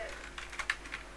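Soft keystrokes on a computer keyboard while entering text in Android Studio, a handful of faint, irregular clicks over low room hum, close and alone.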